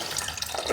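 Sprouts are rinsed in water inside a container, a short burst of close, steady splashing and sloshing liquid.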